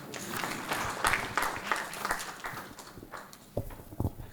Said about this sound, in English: Can we have a bigger round of applause?